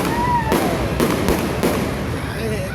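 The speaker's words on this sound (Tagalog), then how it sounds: "Sinimula na lang nila kaysa na masayang yung paputok." Fireworks at the closing of the Iwag Festival of Lights in Pototan Plaza burst in several sharp booms and crackles at intervals, moderately distant, over crowd noise and people talking.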